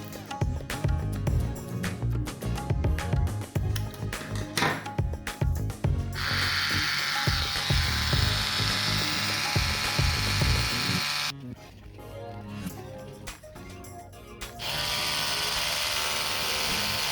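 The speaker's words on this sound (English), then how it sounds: "First option to hand pollinate is to use an electrical toothbrush together with a plastic stick." An electric toothbrush with a plastic stick zip-tied to it, used to hand-pollinate indoor strawberry plants, buzzes loudly and close in long steady bursts, broken by short pauses and rattling handling noises.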